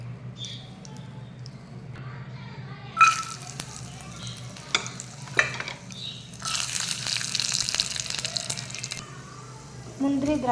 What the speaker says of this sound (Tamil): முந்திரி, திராட்சை நெய்யில் வறுத்து